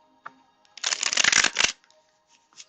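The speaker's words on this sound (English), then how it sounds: "One more shuffle." A deck of tarot cards is shuffled in one brisk, close riffle lasting about a second, with a few light card taps before and after.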